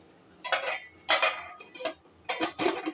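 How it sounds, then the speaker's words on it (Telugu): A lid set onto a pan of frying okra with chilli gives several short metallic clatters and clinks in quick bursts, close and fairly loud, with quiet gaps between them. "ఇప్పుడు మూత పెట్టుకోవాలి."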